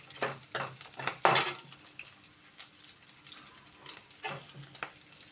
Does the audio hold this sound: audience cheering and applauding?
no